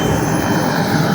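A Robinson R66 helicopter landing at Jomalig produces a loud, continuous turbine roar and rotor rumble, close by and unbroken.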